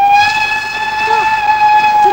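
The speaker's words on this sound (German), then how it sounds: "Ja, der Zug." A local railway train from an old feature film sounds a sustained steady whistle tone, loud and close, held for the whole span over a low rumbling background, with no speech heard.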